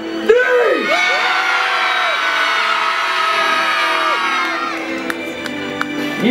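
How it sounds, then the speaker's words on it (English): A large crowd of children screams together at a castle jousting show, a loud, sustained wall of high shrieks and wavering yells that holds steady for several seconds, with a few sharp knocks near the end. "I want you to scream so loud that the jousters down there will turn and run away from you in fear."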